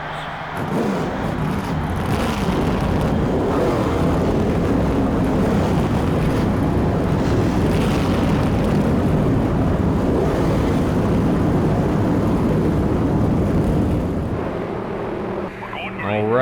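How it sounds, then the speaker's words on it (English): Race car engines from the NASCAR Thunder 2003 video game, likely at a Coke 600 or All Star race start, form a loud, dense, continuous roar that holds steady for most of the clip and briefly dips near the end. "Gentlemen, start your engines."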